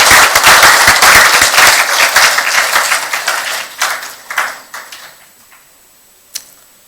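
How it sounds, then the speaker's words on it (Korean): Loud, dense applause from an audience at an award ceremony for a patriotism prize, thinning into a few scattered claps and dying away, followed by a single sharp click. "큰 박수 드립니다"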